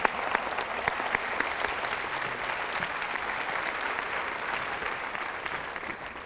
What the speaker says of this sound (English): A big round of applause for those winners